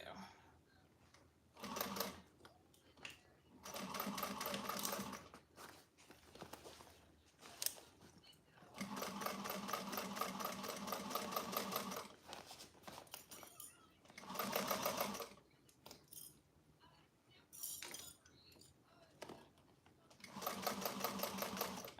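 Sewing machine stitching a bag in repeated bursts of a few seconds each, separated by pauses, loud and close, with occasional talk in the gaps.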